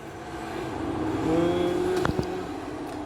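A car engine drones and rises as a vehicle passes nearby, with steady road noise and a couple of brief sharp knocks.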